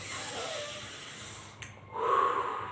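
A breath drawn in, with a louder rush of air near the end over a faint low hum.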